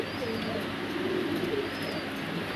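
English Trumpeter pigeons coo continuously on a farm, their low rolling calls filling the space steadily and close, with a faint background murmur.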